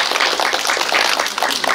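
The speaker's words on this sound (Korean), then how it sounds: "박수 한번 부탁드립니다." A burst of audience applause at a film screening talk, dense overlapping clapping from many hands, loud and continuous for a couple of seconds.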